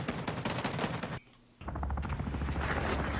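Rapid gunfire in the video game Modern Warfare 2 Remastered, loud and dense bursts with a brief lull in the middle before shooting resumes with heavy low booms.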